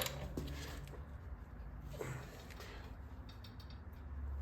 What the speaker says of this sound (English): I'm going to tighten these down now. Take the extension off.